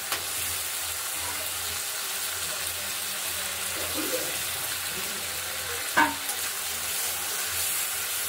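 Pointed gourd pieces fry in oil with a continuous soft sizzle, broken by a sharp utensil knock and stirring near the middle.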